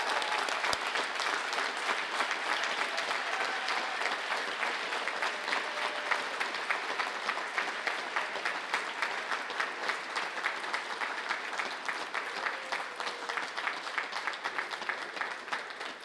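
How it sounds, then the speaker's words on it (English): Sustained applause from a graduation ceremony audience honoring students, a dense, steady wash of many hands clapping evenly for about sixteen seconds with no speech over it. "They deserve a round of applause."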